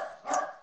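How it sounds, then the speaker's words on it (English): A house dog gives one short, close bark indoors, moderately loud and alone. "My dog barks when we make unusual sounds."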